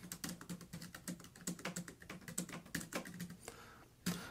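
Rapid, continuous typing on a Bluetooth keyboard paired with a Boox Note Air 5C e-ink tablet, with dense, close keystroke clicks in an uneven rhythm and a few brief pauses, heard alone without talk.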